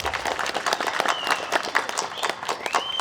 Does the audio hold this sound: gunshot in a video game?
no